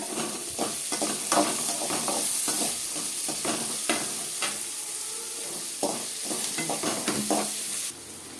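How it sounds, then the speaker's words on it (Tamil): Onions sautéing in a pan for kichadi, stirred steadily with repeated scraping strokes over a continuous bright sizzle, close and fairly loud, with no voices. "வெங்காயம் நல்லா வணங்கட்டும்."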